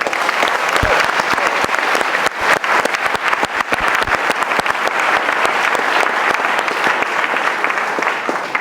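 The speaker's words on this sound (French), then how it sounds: "Mesdames et messieurs, merci de bien vouloir applaudir monsieur Pierre Urmic." An audience applauding Pierre Hurmic, the mayor of Bordeaux, at an evening event, a loud, sustained round of clapping from a large crowd that stays full and steady throughout with sharp individual claps scattered through it.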